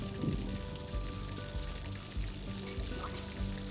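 Chicken wings deep frying in hot oil for a second fry, a steady rain-like crackle and patter running throughout beneath conversational voices.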